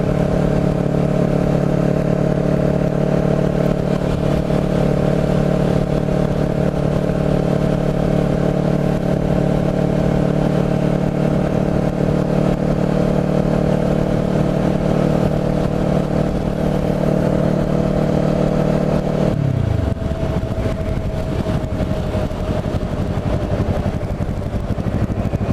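A Kawasaki Ninja 650R engine hums steadily while riding around Lower Township, a sustained close drone that holds its pitch for a long stretch, then drops sharply as the bike slows, easing to a lower idle-like tone with wind noise.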